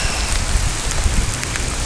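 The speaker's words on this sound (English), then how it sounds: "It's raining like crazy." Heavy rain pours onto a street in Reno, a dense, steady hiss of drops close by with low splashing rumble underneath, continuous throughout with no voices.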